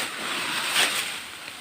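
River water flowing beside a riverbank, a steady hiss and rush of moving water with a brief brighter splash near the middle, fairly close and continuous, with no voices.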